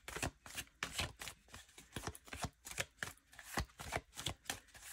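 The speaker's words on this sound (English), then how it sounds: "Spirit is asking me to pull one of these cards." Tarot cards are shuffled in rapid, papery riffles and soft slaps, close but quiet, in an uneven rhythm with no voice over it.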